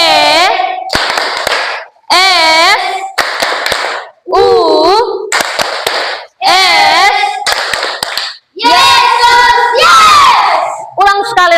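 A group of children chant loudly in unison while clapping in rhythm, bursts of shouted, sung phrases separated by short pauses, close and energetic in a classroom.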